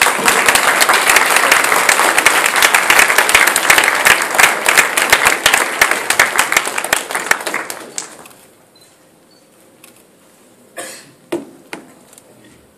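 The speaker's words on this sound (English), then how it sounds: "please give a big round of applause" A crowd at a tech conference award ceremony applauds loudly and steadily for about eight seconds, then the clapping stops abruptly, leaving near silence with a few faint knocks.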